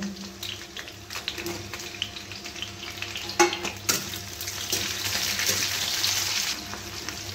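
Onions fry in hot oil with capsicum while fish chilli is cooked, a loud, close, steady sizzle and crackle that swells as they are stirred in the pan.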